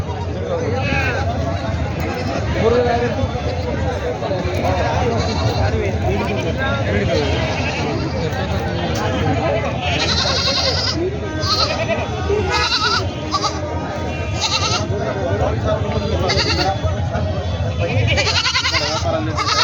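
Goats and sheep bleating repeatedly at a busy livestock market in Vasmat, Maharashtra, many calls near and far over a constant crowd murmur, with people talking throughout.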